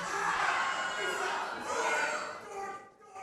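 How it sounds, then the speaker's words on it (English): Supportive wrestling crowd in Milton, Florida cheering and shouting at a live event, a loud sustained roar of many voices that swells and fades toward the end. "This crowd in Milton, Florida, very supportive."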